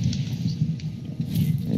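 A lightning grenade detonates during a Destiny Trials of Osiris match, a loud, sustained crackling rumble that fills the whole moment without a break.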